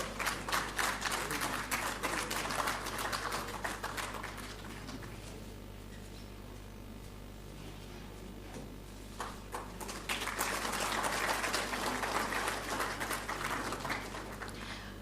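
Applause from the audience at a national photography awards ceremony, a dense, continuous patter of clapping that dips for a few seconds mid-clip before swelling again, heard over a low steady hum.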